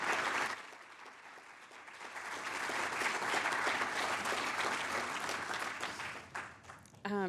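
An audience claps for a medical team at a pre-race celebration, with the applause building into a dense, sustained roar of many hands and then tapering off near the end, when a voice cuts in.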